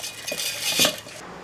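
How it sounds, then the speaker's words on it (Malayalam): A metal cheenachatti, a kadai pan, is set down on a kitchen stove with a couple of quick, light clinks and a scrape, close and fairly quiet, with no talking over it. "ഒരു ചീനച്ചട്ടി അങ്ങോട്ട് വെക്കാം"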